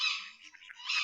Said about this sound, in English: That's a tawny owl.